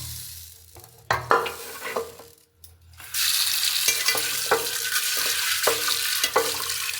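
Mixed lentils and pulses being washed by hand in water, with scattered splashes and stirring at first, then a sustained loud rush of sloshing water broken by sharper swishes.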